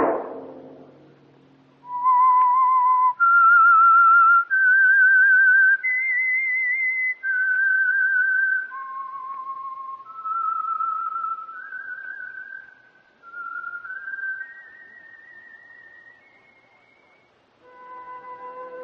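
A lone whistler carries a clear, slow melody of sustained notes, the theme of The Whistler radio program sponsored by Signal Oil, opening after a short fading sound and ending as a soft chord enters.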